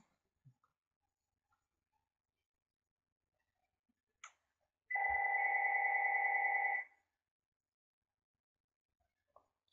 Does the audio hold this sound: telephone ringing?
yes